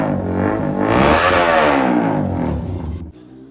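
A Kawasaki Z900 fitted with an Arrow exhaust revs hard and close, its note swelling and dipping in a sustained roar before cutting off abruptly near the end.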